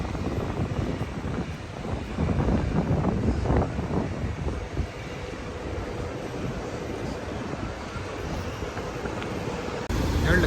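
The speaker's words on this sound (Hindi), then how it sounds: "इधर तो सही लेवल की मज़े की हवा चल रही है" Outdoor wind blowing on a street in Dubai, a steady, heavy low rumble of gusts buffeting the microphone that continues throughout with slight surges.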